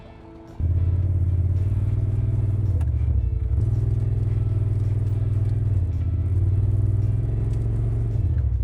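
After a short quiet moment, a Polaris RZR off-road vehicle's engine comes in loud and close, droning and rumbling with small rises and dips as it pulls toward a snatch block while stuck on a steep mountainside.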